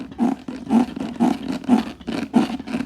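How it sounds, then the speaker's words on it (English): A handbag gives a series of about six rhythmic, creaky squeaks as it is moved, close and fairly quiet, with short pauses between them and no talking. "My biggest pet peeve with this particular bag is this. Do you hear this? Do you hear the squeakiness of this?"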